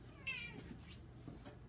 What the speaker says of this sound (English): Maybe you can hear Pippa meowing